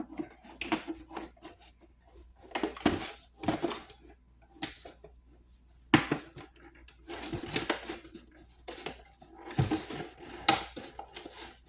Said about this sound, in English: And then around, cut the bottom out.